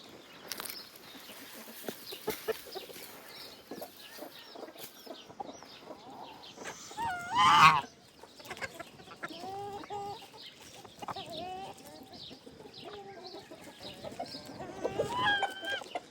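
Backyard chickens clucking on a cold day, intermittent fowl calls scattered through rustling outdoor noise with one louder burst midway, fairly close, no talking.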